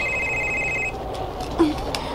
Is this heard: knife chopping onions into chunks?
no